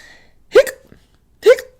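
A person imitates hiccups with their voice, giving two short, sharp vocal hic sounds about a second apart, each with a slight trailing tail, close and clear against silence.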